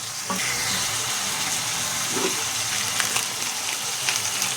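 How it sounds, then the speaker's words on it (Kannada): Tomato and turmeric frying in a pan for mandakki susla, a constant close sizzle with occasional stirring scrapes and light clinks throughout, no voices. "ಅರಿಶಿನ ಹಾಕ್ಕೊಂಡ್ಮೇಲೆ ಫುಲ್ ಹಿಂಗೆ ಫ್ರೈ ಮಾಡ್ಕೋಬೇಕು"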